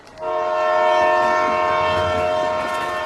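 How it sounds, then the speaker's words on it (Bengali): A cartoon train horn sounds at a station, a loud sustained tonal blast that starts abruptly and holds for about three seconds with no talking. "স্টেশনে গিয়ে দেখলাম ট্রেন চলে এসেছে।"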